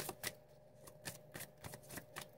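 Tarot cards are shuffled by hand, giving a faint, close, rhythmic run of soft riffling flicks and taps over a few seconds.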